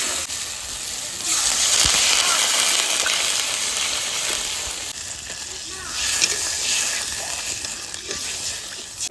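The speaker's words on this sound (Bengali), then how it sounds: "মশলা কষানো হয়ে গেছে এবার জল দিয়ে দেবো" Water poured onto cooked-down fish curry masala in a pan sets off a loud rushing hiss and sizzle that settles into steady bubbling and stirring, heard up close.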